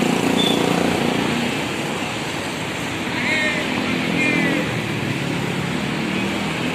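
An ALS intercity bus leaving for Medan gives a broad, steady engine rumble with traffic noise around it, swelling slightly midway, and a voice faintly heard under the din.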